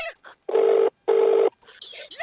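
Two long, steady electronic telephone keypad tones, each lasting about a second, sound close and loud with a short gap between them, amid quiet room noise and a few soft scattered sounds.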